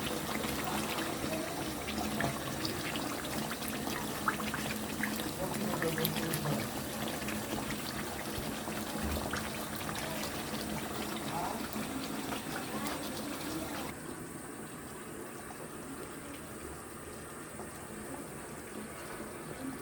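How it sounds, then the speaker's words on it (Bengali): Boiled water is poured into meat cooking in a pot, making a continuous splashing gush for most of the stretch that drops to a quieter, duller flow toward the end. "ফোটানো পানিটা আমি মাংসের মধ্যে দিয়ে দিয়েছি"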